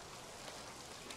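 Rain falls in the video game Foundation as a soft, steady hiss that stays quiet and even throughout, with no talk over it.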